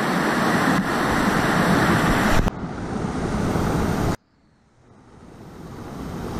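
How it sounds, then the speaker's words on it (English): Rushing water from a waterfall along a lazy river at a theme-park lagoon, a loud continuous broadband roar that drops sharply partway through and then slowly builds back up. "Look at that waterfall"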